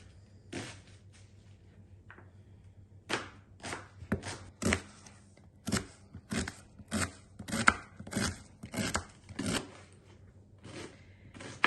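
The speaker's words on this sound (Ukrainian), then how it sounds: "А цибульку ріжемо на четвертинки якби кільця так пополам, потім половинку пополам." An onion being cut into quarters with a knife on a board, a series of sharp, distinct chops in uneven bursts, close and clear with no talking.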